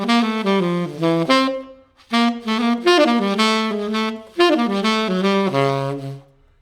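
Jazz saxophone plays a bebop theme, a fast run of crisp, clearly articulated notes with a brief breath pause partway through, ending on a held low note; close and solo, with no talking.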